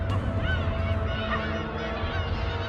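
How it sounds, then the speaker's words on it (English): Black-tailed gulls calling as a flock mobs a predator, a dense continuous chorus of overlapping honking, squealing cries, loud and steady throughout with no speech. "Black-tailed gulls are known to mob potential predators,"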